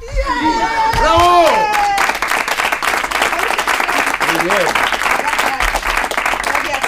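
Audience applause breaks out after a performance on a Spanish comedy TV show, steady dense clapping with some crowd chatter, following a short sung phrase, with a voice speaking briefly over it.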